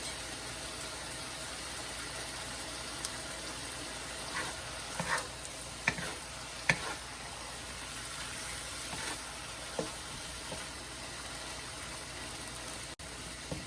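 Vegetables and meat fry in a pan for pad kee mao, a steady bed of sizzle running throughout with a few faint clinks and stirring scrapes, no talking.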